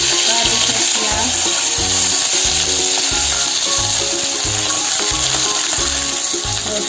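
Onion fries in hot oil in a kadai along with a couple of leaves. A loud, steady sizzle runs alongside regular low thumps of stirring.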